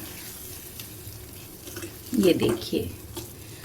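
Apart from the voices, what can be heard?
stirring gram flour mixture with a little water in a pan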